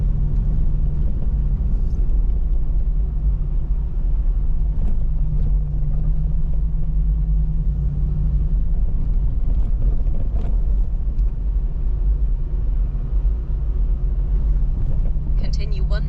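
An overland off-road vehicle on 33-inch or larger tires crawling over rocks and stones, a loud continuous low engine rumble with road noise inside the cabin, a voice speaking over it.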